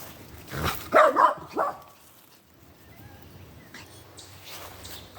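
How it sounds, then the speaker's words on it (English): A dog barks a few times in quick succession at close range, then the scene falls mostly quiet with faint background noise. "because she's been barking"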